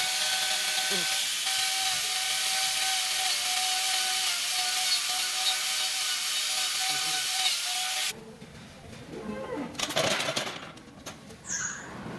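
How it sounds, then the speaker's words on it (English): Power grinder trimming a cow's hoof, a loud steady grinding whine that runs for about eight seconds, then stops and gives way to quieter handling noises and scraping. "to avoid the wastage of time, we can use a grinder"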